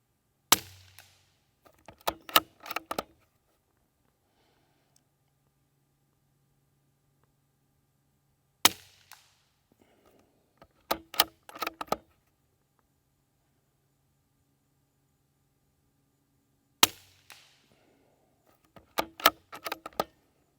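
A Springfield 2020 .22LR rifle fires CCI green tag ammunition in three separate bursts, each a sharp crack followed by a quick cluster of clicks, with long quiet gaps between them.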